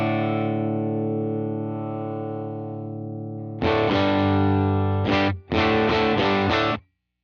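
An electric guitar through a UAFX Dream 65 amp pedal rings out a sustained, effects-heavy chord, then bursts into several loud, distorted strummed chords in quick succession before cutting off.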